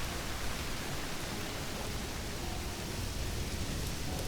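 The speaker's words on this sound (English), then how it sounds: "I love rain in this game." Steady rain in the Vintage Story video game, a dense, even hiss of rainfall filling the whole clip with no voices.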